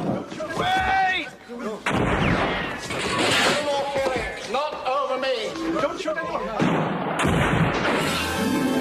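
Gunfire in the sci-fi movie Slipstream, heavy booming shots and sharp cracks scattered through an intense scene, mixed with shouting voices and dramatic sound.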